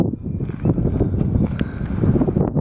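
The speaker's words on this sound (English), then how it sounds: "bit of wind then" Wind gusting across the microphone on a walk past the moorings along the Leeds and Liverpool Canal at Halsall, a loud, rumbling buffeting that rises and falls in uneven gusts with no talk.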